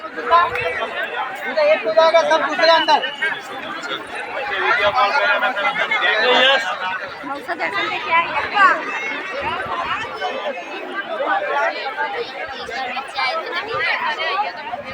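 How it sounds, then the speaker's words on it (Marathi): A large crowd of devotees at the Dwarkadhish temple in Virar, many voices chattering and murmuring at once in a steady, close hubbub that fills the space without pause. "खूप मोठ्या प्रमाणात गर्दी."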